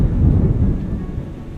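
Tropical thunderstorm in Phang Nga, Thailand, with heavy rain: a loud, close, continuous low rumble of thunder over a steady wash of downpour, with no voices.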